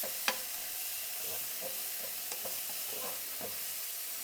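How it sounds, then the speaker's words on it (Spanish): Chopped onion and pepper sizzle softly in a pan for ropa vieja, with a steady low crackle broken by scattered light stirring clicks and scrapes, no voices. "Procedemos a echar la cebolla picada en brumoise o a la jardinera, el ají también picado a la jardinera"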